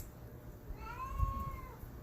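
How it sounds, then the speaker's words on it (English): A single drawn-out meow from an old, deaf cat, fairly faint, rising and falling over low background hum. "Can you hear that? Shut up, cat."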